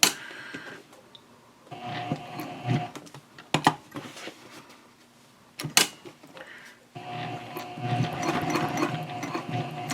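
A sewing machine stitching a messenger handbag near a D-ring, with short bursts of stitching broken by pauses, then a longer steady run at the end. The sound is close and moderately loud.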